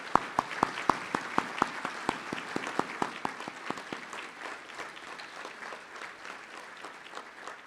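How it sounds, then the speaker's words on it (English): Audience applause at a community breakfast event honoring Turning Points staff: sharp, evenly spaced claps at first, thickening into a steady mid-level round of clapping from a moderate-sized crowd. "recognize their commitment with a well-deserved round of applause"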